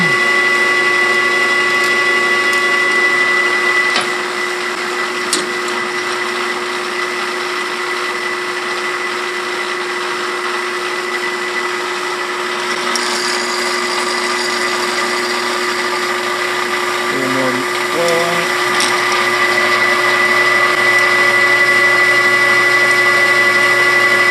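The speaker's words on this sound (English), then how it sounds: "Let the drill do its thing." A steady high-pitched electric drill whirs continuously while boring a bolt hole, close and loud, holding an even tone with a brief change in pitch near the end.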